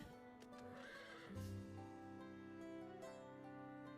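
A horse whinnies while being ridden in the video game Final Fantasy XIV, a clear neigh rising over steady background music, with faint hoof clip-clops.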